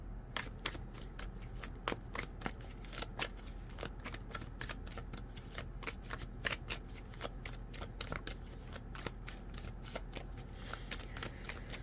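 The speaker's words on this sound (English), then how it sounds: "Okay, I think we're nice and shuffled." A deck of tarot cards is shuffled close up: a rapid run of crisp riffling snaps and flutters, repeated in quick bursts with no talking.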